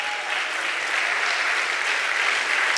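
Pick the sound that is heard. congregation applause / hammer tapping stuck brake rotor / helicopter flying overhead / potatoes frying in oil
congregation applause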